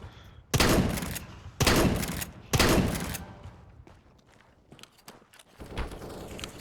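Gunshots in Counter-Strike: Global Offensive, played on an Nvidia Quadro graphics card: three loud, sharp bursts about a second apart, then softer mechanical clicks and a fainter shot near the end, with no speech.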